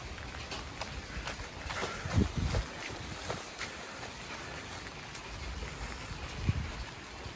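Rain falls steadily nearby, a soft broadband hiss with scattered tapping drops and occasional gusts of wind.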